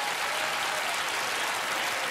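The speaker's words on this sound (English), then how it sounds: "You can applaud for her as she does." Studio audience at a Penn & Teller Fool Us mind-reading act breaks into steady, dense applause, a continuous wash of many hands clapping at moderate level with no pauses.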